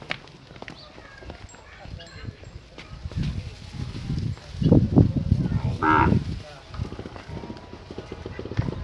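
A crossbred cow moos in a farmyard in Pakistan, a couple of low bellows near the middle among hoof clops and shuffling, with people talking in the background.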